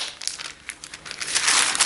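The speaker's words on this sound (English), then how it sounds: "And then just tear those 2 strips off" Paper strips being torn and crinkled in short bursts, close up, ending in a longer rip; no talking.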